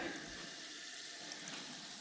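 Hot 140-weight gear oil pours steadily in a close, continuous liquid rush with a faint hiss, running unbroken throughout with no voices.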